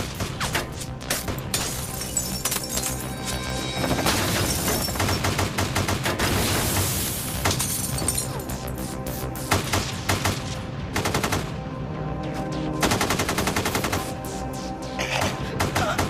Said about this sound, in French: Ils tirent des centaines de coups de feu.